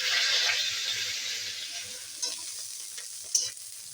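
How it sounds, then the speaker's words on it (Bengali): Cauliflower pieces fry in hot oil with a broad, hissing sizzle that fades gradually, punctuated by a couple of brief utensil clicks. "ফুলকপিগুলো ভেজে নেবো।"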